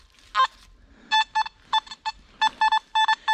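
A Nokta Makro Simplex metal detector gives a clear target signal outdoors: a short tone followed by a series of sharp, regular electronic beeps in quick pairs and triplets, fairly loud with no talk.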